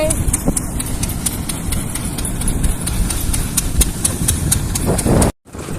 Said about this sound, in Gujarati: તો મિત્રો આપણે ભર લેવા આવી ગયા હૈ ટ્રેક્ટર લઈને